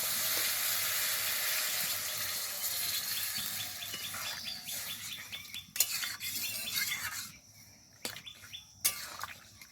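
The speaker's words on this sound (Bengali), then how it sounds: "এবার দিয়ে দেবো পরিমাণ মতো জল।" Vegetables and a fish head sizzle steadily in a pan for chhyachra until water goes in around midway, after which the frying quiets and gives way to scattered clinks of a utensil against the pan.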